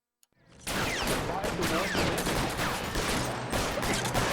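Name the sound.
gunfire in video game L.A. Noire, shooting at MPs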